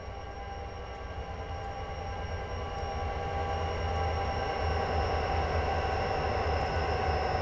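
Train running in Train Simulator 2016 on the Soldier Summit route from Provo to Helper: a loud, steady rumble of rolling wheels and engine that builds gradually, with a faint high squeal running over it.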